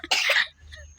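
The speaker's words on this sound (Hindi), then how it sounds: "बाबू को खांसी आ रही है" A young boy gives a single short, sharp cough, close and fairly loud, followed by a brief quiet breath.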